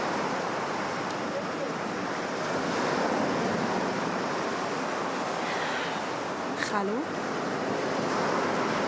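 Sea waves wash steadily against the shore in a constant broad rush, with wind buffeting the microphone, while someone speaks briefly over the surf.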